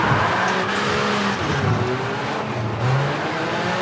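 Several rally car engines snarl and rev together in V-Rally 4, continuous droning with shifting pitch as they race close behind.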